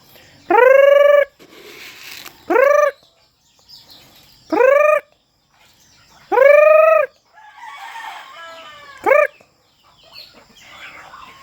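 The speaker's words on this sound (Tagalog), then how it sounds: "Yan mga kabukid, yung alaga nating yung mga manok. Yung mga sisiyo." Farm chickens and chicks at feeding time: loud, close rooster crows ring out five times at uneven intervals, with softer clucking and peeping from the flock in the pauses between them.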